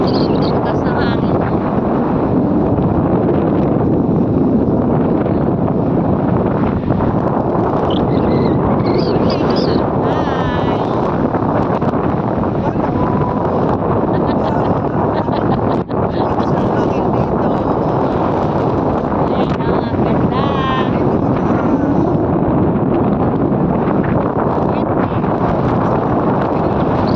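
Strong wind blowing across an open outdoor spot on a family getaway in Ilocos, roaring steadily and loudly into the microphone throughout, with people talking underneath.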